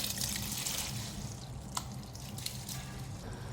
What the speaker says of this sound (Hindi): अब इसमें राइस डालूँगी। राइस को मैंने आधे घंटे भिगो दिया, तो बासमती राइस है ये।